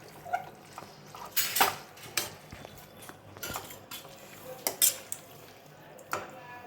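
A spoon stirs raw mango pickle together with soft pickled lemon pieces in a bowl, with irregular close clinks and scrapes against the container over a quiet background.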